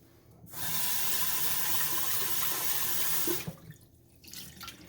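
Tap water runs steadily into the dirty water tank of a Maircle F1 wet mop for a rinse, a loud continuous splashing gush lasting about three seconds before it cuts off and faint handling noises follow.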